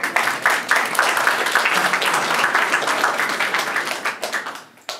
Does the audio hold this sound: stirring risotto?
no